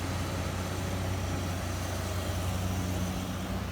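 A heavy diesel engine of a Kobelco SK200 excavator rumbles steadily and loudly up close, a constant low drone with no pauses or talking.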